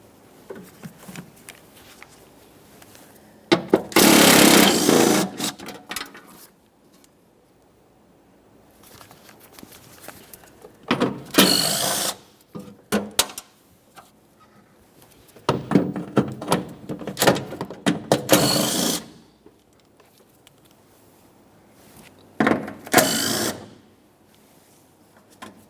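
Bursts of ratcheting from a tool working the 10mm mounting bolts on a 2011-2020 Toyota Sienna 3.5L V6 engine, loud spells of a few seconds each, separated by quieter clicks and handling noises.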